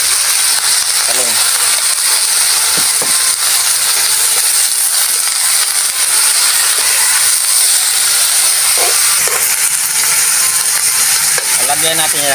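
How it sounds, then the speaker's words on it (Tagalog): String beans and eggplant tipped into a hot pan for ginisang sitaw at talong, a loud continuous sizzle and hiss with stirring clatter, a person talking over the cooking. "Ibuhos na natin yung ating sitaw. Sabay na natin itong talong."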